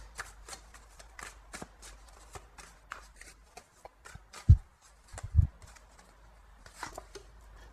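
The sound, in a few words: tarot cards being shuffled for a new draw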